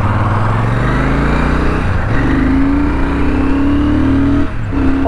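A Royal Enfield Super Meteor 650 cruiser's twin-cylinder engine drones loud and close while riding, pitch rising steadily through the gears with short dips at shifts, wind roar underneath, no talking.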